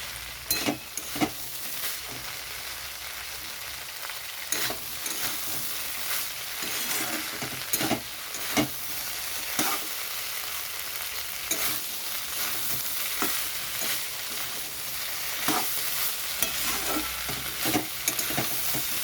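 Potatoes sauté in a pan for red chickpea curry: a continuous sizzle of frying, broken by frequent scraping and tapping of a spoon stirring against the pan, close and steady, with no voices.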